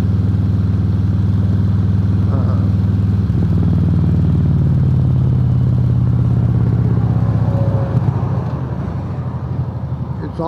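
A motorcycle cruising on an interstate highway, a steady loud engine drone with wind rumble that holds throughout, easing slightly near the end.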